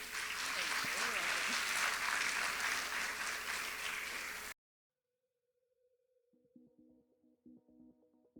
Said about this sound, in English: Everyone clap it up for Abdul.